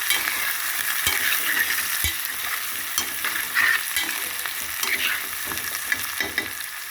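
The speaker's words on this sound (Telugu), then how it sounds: "ములంకాయలు ఇందులో ఫ్రై అవుతుంది." Drumsticks sizzle and fry in a pan with tomatoes, a steady crackling hiss broken by a few sharp clinks and stirring scrapes, heard close with no talk.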